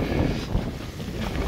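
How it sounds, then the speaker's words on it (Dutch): Strong wind gusts at a campsite where a caravan awning stands, a loud broadband rushing that buffets the microphone with no talk. "Maar zo, wat een wind."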